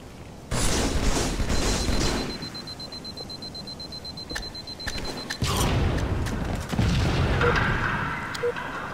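A grenade goes off in a first-person shooter game with a sharp, loud boom that leaves a ringing tone, followed by more thuds, gunfire and mechanical clatter nearby.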